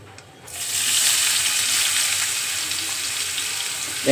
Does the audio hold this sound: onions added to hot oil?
yes